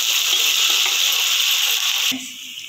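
Mutton curry with onions and salt sizzling in a pan, a steady bright frying hiss that cuts off abruptly near the end, leaving only a faint low hum.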